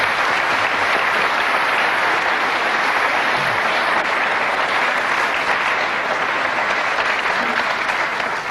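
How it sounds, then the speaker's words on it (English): A crowd at a snooker event claps in sustained, dense applause that stays loud and even from start to finish. "he deserves a nice big round of applause"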